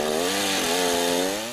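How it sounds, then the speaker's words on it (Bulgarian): A chainsaw cuts into a tree trunk during felling, its steady high buzzing engine loud and close throughout, with the pitch dipping briefly under load and no talk. "Рязането може да става както с горния, така и с долния ръб на шината."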